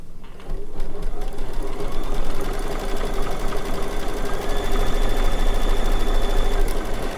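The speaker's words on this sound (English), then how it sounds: "I'm going to just hit the start button. And it's going to stitch out now my 12 circles." A computerized embroidery machine stitches out a set of twelve circles in the hoop for needle-turn appliqué, giving a steady, loud, fast mechanical whirring and needle rattle that runs continuously after a brief start.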